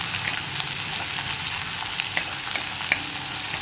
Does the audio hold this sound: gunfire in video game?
no